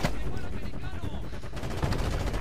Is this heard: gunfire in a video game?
yes